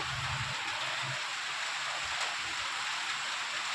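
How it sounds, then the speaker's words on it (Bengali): Heavy rain pours outside a home in a constant, even hiss of falling water, with a few faint low thuds early on and no voices. "প্রচুর বৃষ্টি হচ্ছে"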